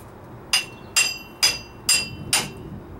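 Five sharp metallic hammer strikes spaced evenly about half a second apart, pounding a rusted axle out of an 2006 Chevrolet Trailblazer front wheel bearing, close and clear with no talk.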